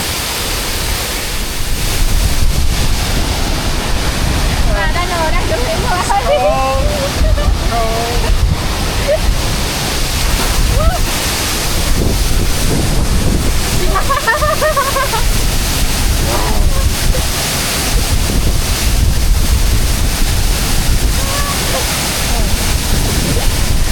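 Khau Làn waterfall on the Ha Giang Loop in Vietnam, a steady loud rush of falling water throughout, with faint voices talking beneath it.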